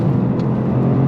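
A 2025 Toyota GR Corolla AWD hatchback accelerates hard in second gear, its engine a loud, steady close-up drone pulling through the revs with no voices.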